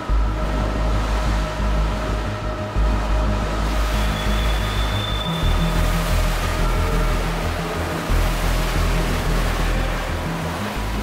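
Ocean waves at night during kayak emergency re-entry training, a dense continuous roar of surf and wind with low rumbling swells, loud and steady throughout, no voices.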